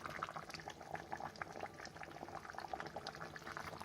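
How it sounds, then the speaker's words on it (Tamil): A pot of chicken curry (kuzhambu) with masala simmering at a full boil, thick bubbles popping in a dense, continuous burble at close range with no talking. "இந்த சிக்கன் குழம்பு வந்து நல்லா, அதாவது கறி மசாலா எல்லாம் நல்லா கொதி வந்து"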